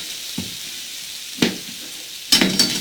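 Mango and vegetables for vegan fajitas fry in a skillet with a steady close sizzle, broken by a few sharp stirring scrapes and clacks of a utensil against the pan.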